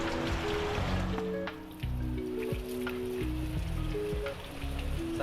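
Spring water flows and trickles steadily beside a trail to Ao-Asen Falls in Ilocos Sur, a continuous close splashing rush with occasional louder drops.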